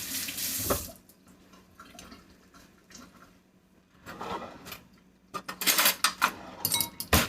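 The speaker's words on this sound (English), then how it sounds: "All right, rinse my hands a bit." Tap water runs in a kitchen sink while hands are rinsed beneath it, a close splashing stream with a loud burst at the start, a quieter stretch, then louder choppy splashes toward the end.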